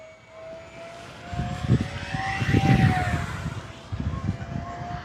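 An FMS P-51 Miss America 1.1 m RC model warbird flies past under hard throttle, its electric propeller whine rising from faint to loud and sweeping in pitch as it passes overhead, then fading slightly.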